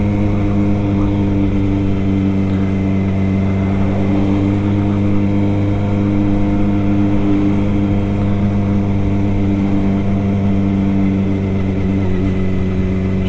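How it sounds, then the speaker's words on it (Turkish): A steady, loud Suzuki Bandit 600 (GSF600) motorcycle engine hums continuously while riding, with rushing wind noise and no break in the drone. "Arabayla gitmektense motorla gideyim dedim."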